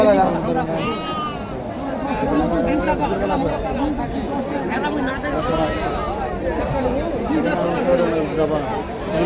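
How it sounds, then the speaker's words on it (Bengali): Sheep bleat repeatedly amid a busy livestock market in Naogaon, Bangladesh, where goats and cattle are traded; the cries rise over constant crowd chatter and nearby talking. "ভেড়া আছে"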